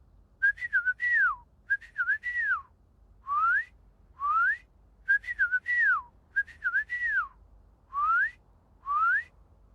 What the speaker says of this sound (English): let's see if she still knows my whistle